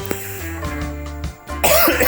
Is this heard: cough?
yes